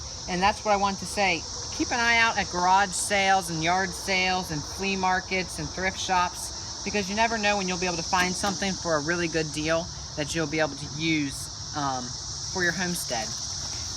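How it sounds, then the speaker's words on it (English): Cicadas on a homestead keep up a steady high-pitched buzzing drone in the background while someone talks throughout over it. "You can probably hear the cicadas in the background."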